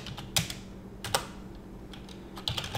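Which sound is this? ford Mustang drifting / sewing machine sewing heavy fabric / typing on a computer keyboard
typing on a computer keyboard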